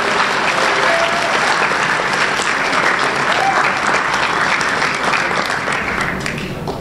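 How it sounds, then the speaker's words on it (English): Loud, sustained applause from a large audience at a school ceremony in the Commons honoring new National Honor Society members, Girls and Boys State delegates and Americanism Test awardees; a dense, even roar of clapping that dips slightly at the end. "please join me once again in applauding all of our new National Honor Society members"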